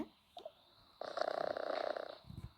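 A pet cat purrs up close in a home, a steady rhythmic rumble lasting over a second after a few faint rustles, with no talk.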